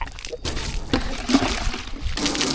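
Water sprayed from a hose pipe sloshes and splashes in uneven bursts nearby while a person talks over it.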